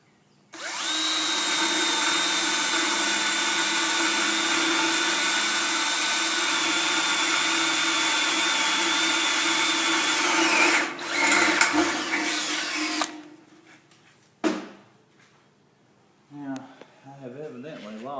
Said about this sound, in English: get the drill, and finish drilling.